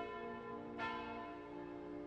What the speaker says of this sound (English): Did you hear the bells ringing?